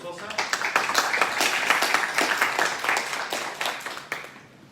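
A lecture audience applauds a speaker on biomagnetism, a dense burst of many hands clapping close by that builds, holds, then tapers off toward the end.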